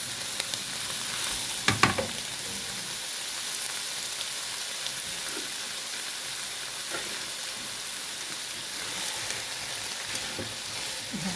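Sausages sizzle steadily in a hot pan, a continuous crackling hiss with a few louder pops and scrapes of stirring, close and alone without talk.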